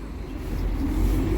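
A number 900 bus pulls into Regent Centre Interchange, its engine a low, steady rumble that swells gradually as it draws nearer, with no voices over it.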